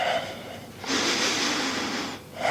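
Deep breathing while holding a bodyweight squat, a long, loud breath of about a second and a half rising between quieter breaths, close and alone.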